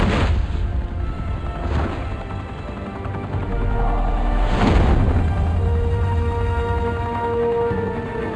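Gunfire and booming impacts in a Batman video game, with a few heavy blasts standing out over a dense, continuous background of combat noise and music.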